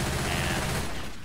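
Uzi submachine guns firing in the zombie shooter Left 4 Dead 2, a dense, loud burst of rapid automatic gunfire filling the short moment and tapering slightly at the end.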